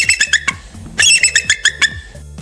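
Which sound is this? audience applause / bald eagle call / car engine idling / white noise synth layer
bald eagle call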